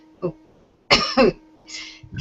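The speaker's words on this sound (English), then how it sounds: "I just got a cough in my throat." A sharp cough bursts out near the mic, followed by a second cough, with short breathy sounds between them.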